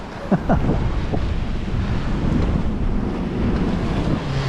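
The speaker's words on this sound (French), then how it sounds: "Là, les vagues font 3-4 mètres." Wind roaring over a sailboat at sea in heavy Atlantic weather, with waves three to four metres high washing around the boat in a steady, dense rush. The wind buffets the microphone throughout.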